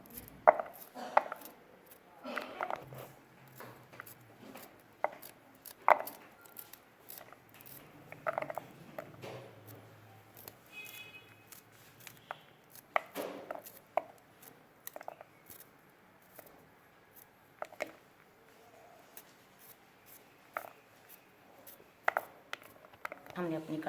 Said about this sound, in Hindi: चलो शिमला मिर्च हमने अपनी कट कर ली है।